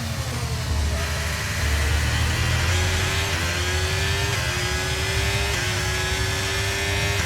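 A Formula 1 car engine in a racing video game on the Austria track, a loud, steady high-pitched whine that climbs through gear changes in repeated rising sweeps, close and continuous without talk.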